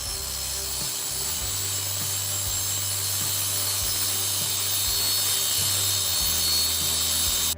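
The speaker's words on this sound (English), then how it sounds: "Now you have a custom jig for cutting straight pieces." A circular saw cutting wood along a straight-cut jig, a loud continuous whining buzz with a low rhythmic rasp as the blade moves through the board, ending abruptly.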